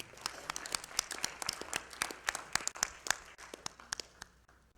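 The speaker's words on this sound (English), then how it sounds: "Please, let's give one last round of applause for this wonderful team." Scattered clapping from an audience at an awards ceremony, with sharp individual claps standing out over a thin background of applause that gradually tapers toward the end.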